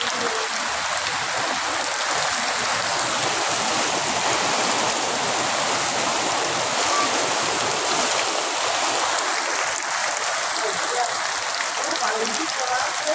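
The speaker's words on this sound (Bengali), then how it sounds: "প্রচণ্ড বৃষ্টি নামছে" A downpour at a street crossing in Satkhira, Bangladesh, makes a loud, rushing roar of rain on surfaces and running water close by, continuous and even for the whole stretch.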